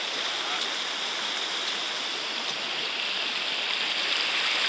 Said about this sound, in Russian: Ручеек здесь шикарный ручеек. Такой, мощный, ледяной.